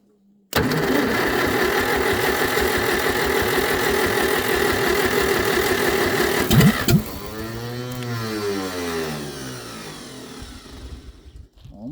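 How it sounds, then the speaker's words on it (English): A 1949 Farmall M tractor engine turns over on its starter in a long, steady cranking drone, then shifts and fades as it nearly catches. Loud and close, with no talking. "I'm going to see if I can't get it to fire this time with the starter"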